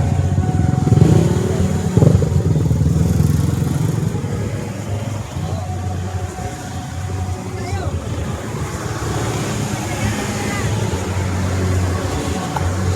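A steady stream of motorcycles in a rally on EDSA rumbles past, engines droning and revving in a continuous roar with wind noise, voices faintly mixed in.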